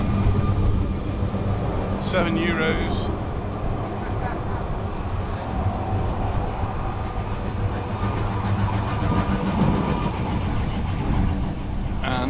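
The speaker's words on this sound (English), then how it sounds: "and here's the tram." A tram rolls into the seaside port of Puerto de Soller, Mallorca, its steady rumble and wheel clatter running throughout, with a couple of high squeals, under continuous wind noise and someone speaking.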